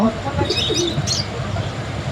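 Owl pigeons coo close by, low soft throaty calls over a busy background with a few brief higher chirps, and no clear talking.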